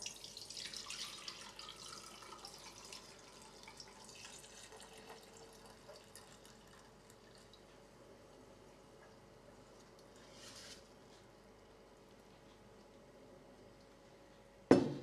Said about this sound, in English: pour it into this jug, and I'll need a really fine sieve to catch all the little tiny quinoas and amaranth grains